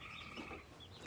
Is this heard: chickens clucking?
yes